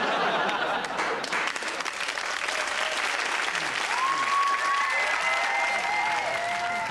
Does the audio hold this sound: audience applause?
yes